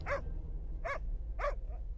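A dog barks three times in evenly spaced sharp barks, the last followed by a softer yip, over a low background rumble.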